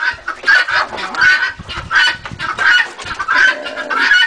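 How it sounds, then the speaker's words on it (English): Pharaoh quail cluck while eating in an outdoor pen, close by and loud, with repeated short clucks and chirps in an uneven rhythm and occasional pauses. "These are Pharaoh quail,"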